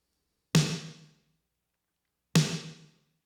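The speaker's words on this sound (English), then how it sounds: "And then on the snare, this is the snare sample." Two LinnDrum snare drum sample hits with reverb, spaced about two seconds apart, each a sharp loud crack followed by a short decaying tail, heard alone with nothing between them.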